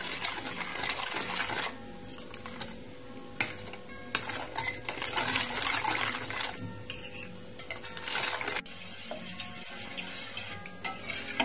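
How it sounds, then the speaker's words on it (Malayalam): A milk and milk powder pudding mixture stirred in a pot on the stove, with a spoon scraping and clinking rhythmically against the pot in bursts broken by short pauses. "ഇത് നന്നായി ഇളക്കിയിട്ട് ഒന്ന് കുറുക്കിയെടുക്കണം"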